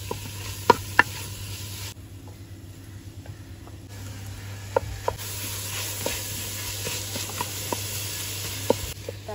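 Tomato and onion sautéing in a clay pot, with a steady low sizzle under scattered clicks and scrapes of stirring, close and fairly quiet.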